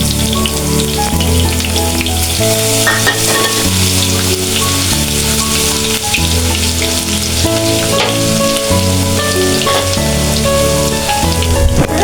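Black cumin seeds, bay leaf and garlic spitting in hot oil for a sweet pumpkin fry, a loud, dense rain-like sizzle under steady background music.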